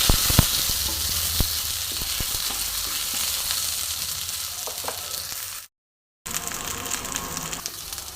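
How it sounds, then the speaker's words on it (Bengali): Potatoes fry with whole spice tempering in an oily pan, a dense close sizzle crackling continuously with a few sharp pops and a brief cut of silence partway through. "ফোড়নের সাথে কিন্তু আলুটাকে আমি হালকা করে ভেজে নিচ্ছি"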